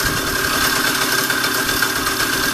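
Riga 13 moped engine with a freshly tuned carburetor idles steadily and close, a continuous buzzing putter with no pauses or voices.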